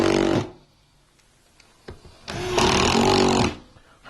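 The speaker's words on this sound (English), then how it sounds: "we're going to finish screwing this floor" A power driver drives screws through cement board into a floor, with two loud whirring bursts, a short one at the start and a longer one of about a second later, separated by quiet and a few faint clicks.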